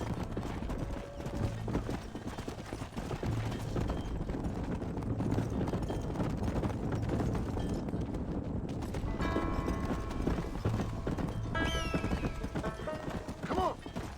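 A horse gallops in the Red Dead Redemption video game: continuous, rapid clip-clop hoofbeats that stay close and loud throughout, with brief whinnying and other game noises layered on top toward the end.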